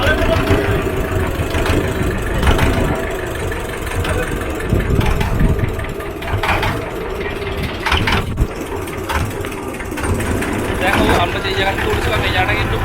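Motor boat engine running while crossing the Ganga river at high tide, a steady low mechanical drone with knocking pulses that holds loud and close throughout, with a few brief knocks and rattles over it.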